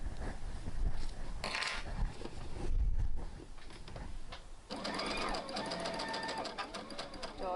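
A home sewing machine runs a quick back-and-forth backstitch to lock a seam while sewing a New Look 6575 garment, a close, steady mechanical whirr of rapid needle strokes, with brief pauses and a short burst of handling noise midway.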